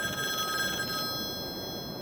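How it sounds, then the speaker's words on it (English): A landline telephone rings loudly with steady electronic bell tones, heard close and alone with no voices. "Veneria's landline phone rang loudly, startling each of us."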